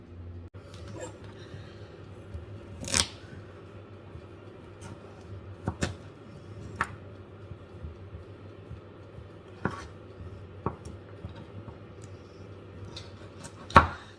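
Knife chops on a cutting board in a motorhome kitchen come as sparse, sharp knocks at irregular intervals, close up, over a faint steady background hum.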